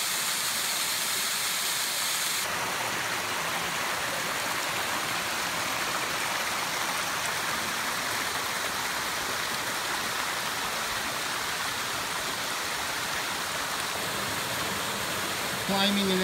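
A waterfall rushes in a loud, constant roar of white water that continues without a break.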